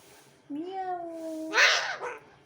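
A pet parrot (mitthu) imitates a cat, giving one drawn-out, nasal meow-like call that ends in a harsher squawk, close and fairly faint.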